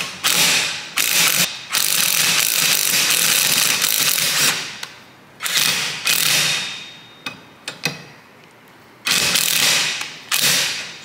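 Ratchet clicking hard against a rusted, seized nut on a Volvo XC wiper arm, coming in several bursts of rapid loud clicks separated by short gaps and brief pauses.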